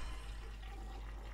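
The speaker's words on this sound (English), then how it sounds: "You can flush a toilet." A toilet flushes in Call of Duty Black Ops 3 Zombies, the Verrückt map, as a steady rushing, gurgling wash of water that holds at an even, moderate level throughout without any voices.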